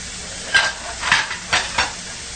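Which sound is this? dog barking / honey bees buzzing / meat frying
meat frying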